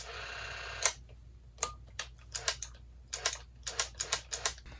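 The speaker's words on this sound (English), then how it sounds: "This one actually has a setting where you can do stop motion by clicking the trigger." A Sankyo Macro Focus MF303 film camera's trigger is pressed over and over, making sharp mechanical clicks at an irregular rhythm, close up and quiet against a faint steady hum.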